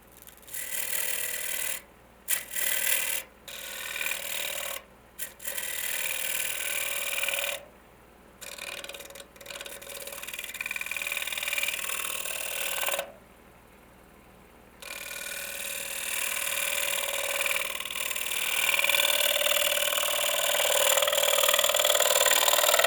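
Bowl gouge shearing a turned wooden bowl on a spinning lathe gives a steady, rasping hiss that stops and restarts in short bursts, then runs longer and louder toward the end.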